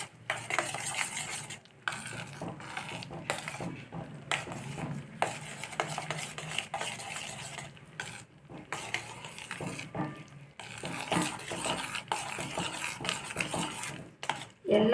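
Rice flour is stirred into corn dough in a pot over a low flame, giving repeated scraping and clinking of a spoon against metal in irregular bursts with brief pauses, close and fairly quiet.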